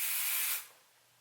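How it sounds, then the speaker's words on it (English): Bed Head Rush Shine Spray misted onto curly hair, a single close, loud aerosol hiss lasting about half a second before cutting off into quiet. "This is Bed Head Rush Shine Spray, and it smells like cake."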